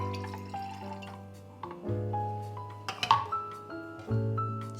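Ginger ale pours into a slanted measuring cup in short bursts of gurgling and splashing liquid, close and fairly quiet, with faint fizz between pours.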